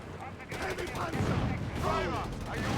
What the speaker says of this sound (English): Panzer IV firing away there